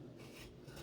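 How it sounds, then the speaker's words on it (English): A rigid scraper rasps across a dampened ceiling surface, a close, continuous gritty scraping with slight rhythmic strokes and no voices. "Then take yourself a nice scraper, rigid thing. Just kind of scrape away."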